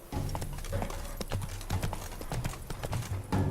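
Horse hooves galloping in The Witcher 3, a fast steady clip-clop rhythm close by that runs all the way through at an even loudness and is heard alone.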